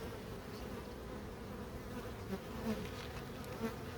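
Honeybee colony buzzing inside an opened hive, a dense, steady close-up drone with no break.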